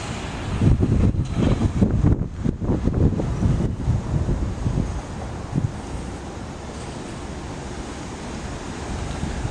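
Atlantic Ocean surf at Sunny Isles Beach rumbles and washes in under gusty wind buffeting the microphone, loud and rough at first, then settling into a steadier, softer roar.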